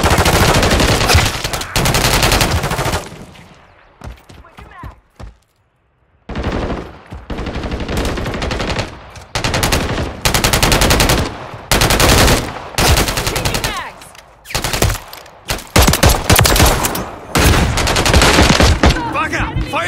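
Sustained Call of Duty machine gun fire roars in long, loud volleys broken by short gaps and one near-silent lull, with shouted voices mixed in among the bursts.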